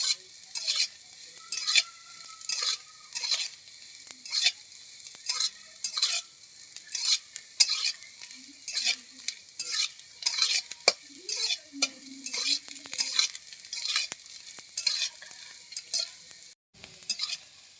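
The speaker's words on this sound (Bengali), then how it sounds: "এবার আমি সয়াবিনটা তুলে নিচ্ছি।" Soybean chunks fry and are stirred in a pan for a vegetarian potato curry, giving a steady high sizzle broken by frequent scraping and clinking strokes of a spatula against the pan, close and moderately loud, with no talking.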